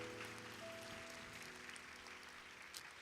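A church congregation applauds couples getting married during a worship service, with soft, steady clapping throughout and sustained instrumental tones underneath.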